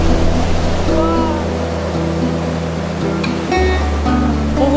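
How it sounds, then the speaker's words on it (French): Glacial meltwater river rushing fast and powerfully, a steady loud roar of water with a low engine-like hum running underneath throughout. "Toute l'eau des glaciers là qui coule à une vitesse, une puissance surtout."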